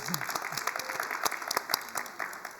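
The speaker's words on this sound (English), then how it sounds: "a round of applause for that" Audience round of applause at a talk on building a resilient labor market, honoring the $1 million Aspen Prize for Community College Excellence, faint and distant scattered clapping, brief and thin.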